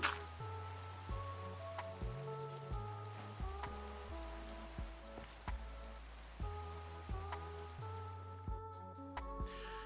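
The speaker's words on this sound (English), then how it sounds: "Gotta love the rain, makes the game lag" Rain falls in the Minecraft video game as a soft, steady patter under gentle, repeating musical tones, with no voices.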